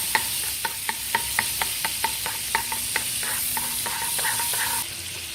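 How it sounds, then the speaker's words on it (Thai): Two tablespoons of butter melt in a hot pan with a bright, constant hiss, marked by regular light taps of a utensil against the pan every half second or so, close and clear with no talking. "แล้วกระทะตั้งไฟใส่เนยลงไปนะจ๊ะใส่เนยลงไป"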